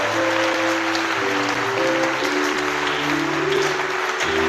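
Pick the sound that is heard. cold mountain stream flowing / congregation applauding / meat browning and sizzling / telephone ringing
congregation applauding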